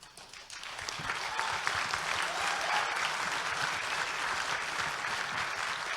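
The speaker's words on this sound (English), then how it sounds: "It says a lot for you that you applauded that line" An audience at a speaking event breaks into applause that swells within the first second, then holds as steady, dense clapping filling the hall, with no voices over it.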